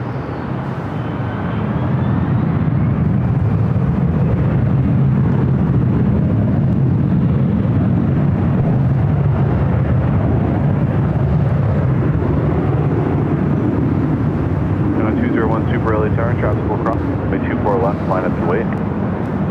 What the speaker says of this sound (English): Also have ITA just arriving on the south side, the A330 Neo coming in from Rome.